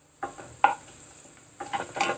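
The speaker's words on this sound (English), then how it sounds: "Fry it till the raw taste of the garlic is gone" Soft sizzling of garlic frying in a pan, with a couple of quick scraping stirs and light clinks of a utensil against the pan.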